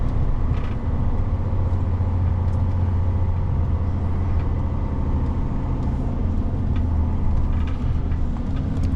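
A bus on a rural road up north rumbles steadily nearby, its deep engine drone continuous for several seconds amid general road and vehicle noise, with no talking.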